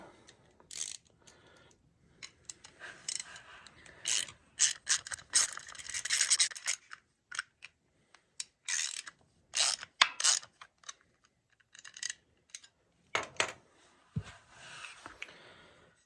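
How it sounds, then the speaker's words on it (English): An adjustment screw is worked into the gibs of a machine table, giving quiet, intermittent metallic ratcheting, scraping and clicking bursts separated by silent pauses. "I forgot to fully screw the adjustment screw within in the gibs. So I'm going to do this now."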